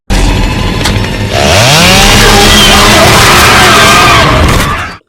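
Chainsaw in a horror film, starting up and revving to a loud snarling roar that holds steady with rising engine pitch, mixed with yells, then cutting off abruptly.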